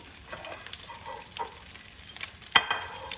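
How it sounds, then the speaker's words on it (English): A tilapia fillet goes into oil heated over medium-high heat, with a few crumbs already in the pan. A quiet, crackly sizzle runs throughout, and a brief louder burst of spatter comes near the end. "I heated up some oil over medium-high heat. Those are a few crumbs that I got in there. And I'm going to just put the fillet in."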